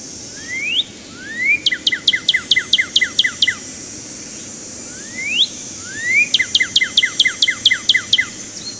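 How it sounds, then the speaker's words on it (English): Northern cardinal song in a video game: two bursts, each opening with rising slurred whistles, then a quick, even run of bright, descending 'chew' notes, over a soft, steady background hiss. "Northern cardinal."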